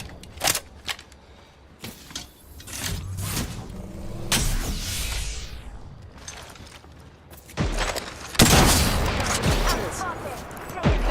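Gunfire in a video game: scattered loud bursts and single shots with booming impacts, mixed with game noise and radio-style voice callouts.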